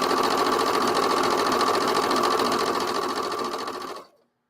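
A sewing machine quilting with a narrow stitch length runs in one steady, close, continuous whir, then winds down and stops just before the end, with no talking.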